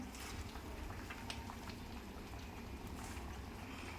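Drumstick leaves cooking in a pot of boiling water with cooked lentils, a steady close bubbling and simmering hiss that holds throughout with no talk.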